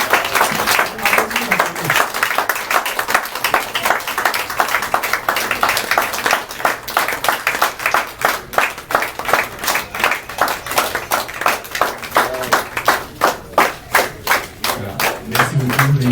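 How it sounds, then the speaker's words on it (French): An audience at an NGO event at an urban health centre in Bonon claps in steady rhythmic unison, loud and close, with a brief voice heard now and then. "On continue d'acclamer."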